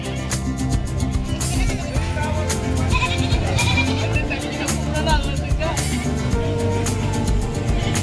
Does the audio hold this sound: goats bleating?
yes